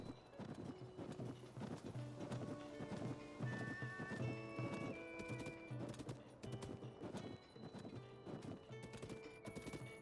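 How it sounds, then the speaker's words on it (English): Horse hooves clip-clop in quick irregular beats in The Legend of Zelda: Tears of the Kingdom, with a whinny breaking through over a busy background of music-like tones. "No, this is Zelda's horse"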